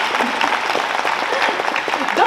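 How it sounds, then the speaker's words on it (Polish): An audience at a poetry song festival in Olsztyn applauding a diploma presentation, steady dense clapping from a crowd with a voice faintly underneath, fairly loud and continuous throughout. "A państwo klaszczą w tym czasie."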